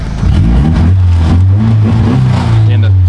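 A Honda engine revs close by, its low steady drone holding under overlapping talk with a brief rise in pitch partway through.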